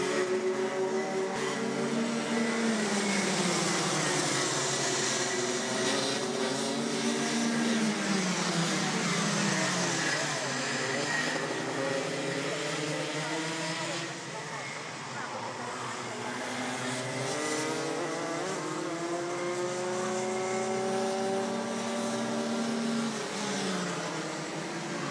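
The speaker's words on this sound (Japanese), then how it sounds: "レースは残り12周、先頭は39号車伊藤隆変わらず" MAX Masters racing karts in a 2023 NTC Cup final heat circle a race track, engines whining and rising and falling in pitch as they pass, with an excited commentator talking throughout.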